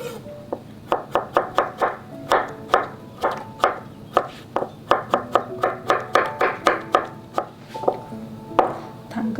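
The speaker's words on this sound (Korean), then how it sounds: "호박은 3분의 1 정도만 해서 반으로 잘라주고" A knife chops zucchini for kalguksu on a cutting board in a steady run of crisp, close knocks, about two or three per second, with no talk over them.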